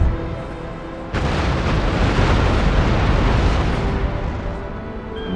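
Naval cannon broadsides from ships in Empire: Total War, a sudden loud boom at about one second followed by a sustained rumbling roar of overlapping shots and blasts that slowly fades.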